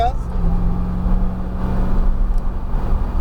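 A 647 hp Corvette ZR1 engine roars steadily under load in third gear on a race circuit at close range, a sustained low drone with a slight rise in pitch, no speech over it.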